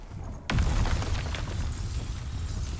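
A sudden loud blast goes off in the dark fantasy action game Enotria: The Last Song, a sharp onset followed by a broad rumbling wash that fades slowly, with no talk.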